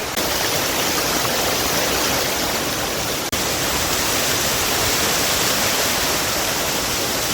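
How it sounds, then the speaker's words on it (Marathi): A monsoon waterfall at a quarry in Belpada roars as a loud, constant rush of falling water, dense and unbroken from start to finish. "सुंदर आणि छान असा धबधबा आहे"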